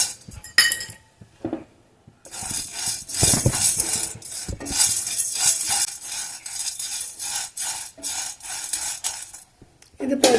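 Chana dal dry-roasting in a kadai for a drumstick-leaf chutney powder, with a spoon scraping and stirring the rattling lentils. A few clinks come first, then steady, close, busy scraping that stops briefly near the end.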